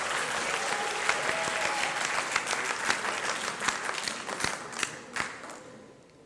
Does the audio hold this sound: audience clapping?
yes